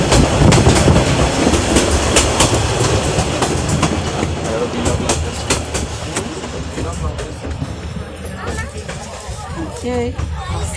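DSC 2759 locomotive hauling a train on the Gisborne City Vintage Railway, a loud steady rumble with clickety-clack of wagons close by, while a crowd murmurs and chatters throughout.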